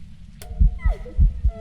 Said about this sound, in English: We heard the humming.